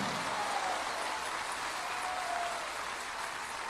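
Church congregation applauding together, a steady dense clapping wash that holds for several seconds without pause, fairly close and filling the room.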